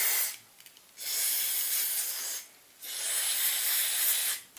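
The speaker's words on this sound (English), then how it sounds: "all you got to do is spray it in like so" Two bursts of aerosol cleaner sprayed into a Worx drill during a teardown, each a loud, steady broadband hiss lasting over a second, with short quiet gaps between and another brief burst at the end.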